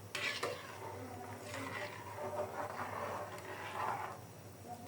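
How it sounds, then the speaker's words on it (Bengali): Food stirred with oil in a cooking pan, with soft scraping and clinks of a utensil against the pan over a low steady hum, quiet and close. "আর একটু তেল দিয়ে দিই। একটু লেড়ে দিব, নিচে লেগে যাতে না যায়।"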